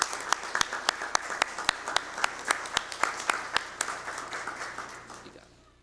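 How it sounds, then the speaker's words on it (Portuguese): A small group of city councillors claps for several seconds in a council session, the sharp claps ringing out individually before fading away. "gostaria que todos os vereadores dessem uma salva de palmas para a família e para Maria Aparecida"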